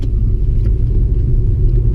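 Steady low engine rumble from a 2001 Audi S3 8L driving at a constant pace, with road and cabin drone continuous and loud from an interior position.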